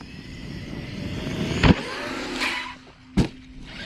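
Arrma Kraton 8S EXB RC truck rushing past during wheelie bar testing, with a steady whining motor drone and two sharp loud bursts as it hits and lands.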